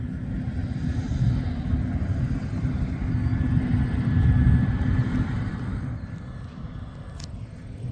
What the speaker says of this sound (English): there's a Chinook hovering overhead